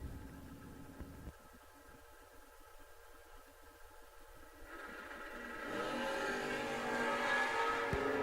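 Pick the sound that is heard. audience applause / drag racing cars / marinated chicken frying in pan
drag racing cars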